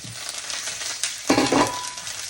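Vegetables fry in hot fat in a wok with a close, crackling sizzle, which swells into a louder burst partway through, as if stirred or tossed, before settling back. No one speaks.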